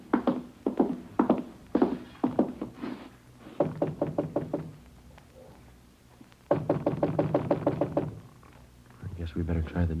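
Firm knuckle raps on an apartment door come in quick rhythmic bursts of several knocks, repeated with short pauses, close and fairly loud, and a few muffled voices talk between them.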